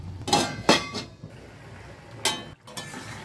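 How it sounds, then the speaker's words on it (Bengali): A lid set onto a pan of simmering dim posto egg curry, a few close metallic clinks and clatters in short bursts, then quiet kitchen background. "এটাকে আমি একটুখানি ঢাকনা লাগিয়ে 5 মিনিট মতো রান্না করবো"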